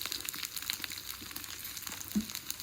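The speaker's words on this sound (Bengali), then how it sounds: "এটাকে আগে ভাজা ভাজা করে নিতে হবে।" Onion and garlic fry in mustard oil in a wok, a brief steady hiss of sizzling with a faint scrape near the end.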